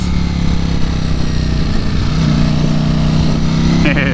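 A motorcycle rides under steady engine drone, loud and close, with brief changes in engine pitch as a quick shifter changes gears without the clutch, and a sharper shift near the end.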